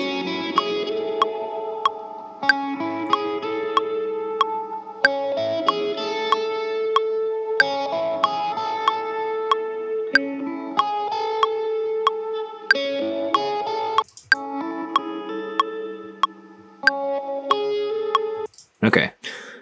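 Electric guitar volume swells through effects, soft tones fading in and ringing out in a repeating pattern, with a steady click track ticking over them.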